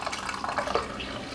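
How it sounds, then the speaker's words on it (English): Water runs briefly over a whisk during moringa tea preparation, a short, close, hissing splash of rinsing water with no talk. "I rinse off my whisk."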